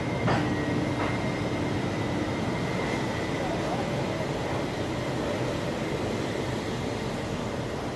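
The Vivek Express passenger train runs just after leaving Visakhapatnam Junction, giving a loud, steady rumble of wheels and carriages with faint clicks and a brief squeal near the start.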